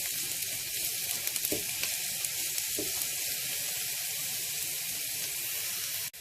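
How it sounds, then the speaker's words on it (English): Chopped onions frying in leftover tofu oil, a steady bright sizzle broken by a couple of soft knocks. It stays close and even, with no talking, and cuts off abruptly at the end. "I'm using the remainder of the oil from the tofu, and I will be adding in my chopped onions, and I will let that fry for a few minutes"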